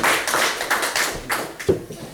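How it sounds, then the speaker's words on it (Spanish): A church congregation applauds in a burst of scattered, overlapping claps that swell and fade over a couple of seconds, with a few louder thuds, filling the room. "Den un aplauso al Señor, amén."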